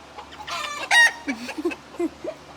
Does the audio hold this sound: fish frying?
no